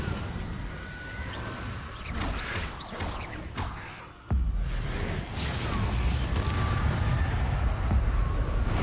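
Fire spell cast in the Hogwarts Legacy video game, a series of sharp whooshing bursts followed by a heavy, roaring blast that swells and sustains loud to the end.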